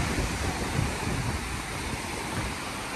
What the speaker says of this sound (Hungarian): Most szél is van, most még nagyobbak a hullámok.